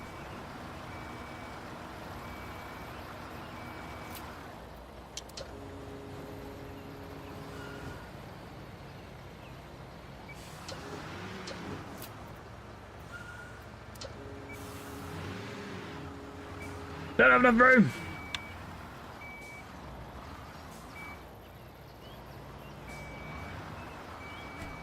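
A truck backing up in Construction Simulator gives steady, evenly spaced reversing beeps over a low engine rumble, first alone and later again, with players talking briefly in between.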